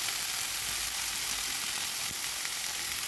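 Turkey thigh skewers sizzle steadily in a frying pan, a dense continuous hiss that stays loud and even throughout, with no voices.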